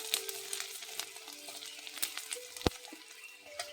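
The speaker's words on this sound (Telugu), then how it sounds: "సగం ఫ్రై అయింది." Half-fried vegetables crackle softly in a pan, a faint steady sizzle with light scraping stirs and one sharper knock of the utensil, no voices.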